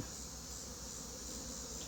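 Honeybees hum at a hive during a colony inspection, a continuous even buzz of many insects close to the microphone with no voices.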